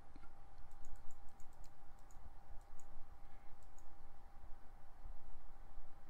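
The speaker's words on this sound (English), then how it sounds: "And do a little clicking on the gold arrow to get me ahead a little bit." Computer mouse clicking during play of an Excel VBA shape-moving game: quick bursts of light, crisp clicks in short clusters, fairly quiet over a faint steady hum.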